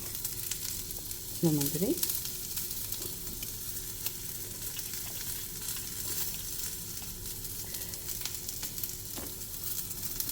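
Boiled chickpeas, chilli flakes and garlic fry in olive oil, a soft, steady sizzle with occasional light clinks and stirs, and a voice briefly speaks over it.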